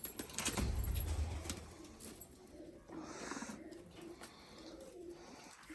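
Pigeons coo nearby in low, throaty murmurs, with light rustling and clinking sounds around them and no speech.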